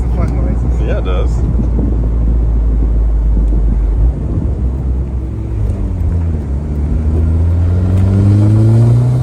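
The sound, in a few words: turbocharged Mazda Miata engine revving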